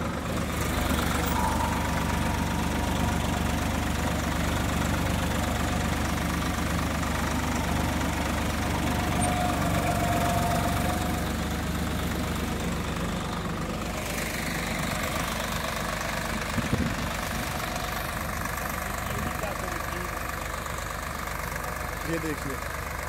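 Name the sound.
Swaraj 855 4x4 tractor engine pulling a cultivator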